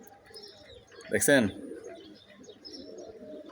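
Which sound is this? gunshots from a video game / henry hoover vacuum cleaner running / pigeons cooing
pigeons cooing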